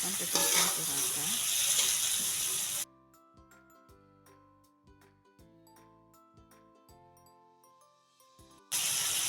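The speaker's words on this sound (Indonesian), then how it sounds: "lalu aduk-aduk sampai tercampur rata" A frying pan of sambal with salted fish and sugar is stirred, giving loud sizzling at the start. Quieter scraping and clinking strokes follow for about six seconds, then the sizzle returns loudly near the end.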